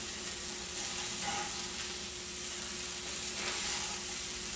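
Tofu browning in a hot pan gives a steady, close sizzle with a faint hiss running evenly through, and no voices.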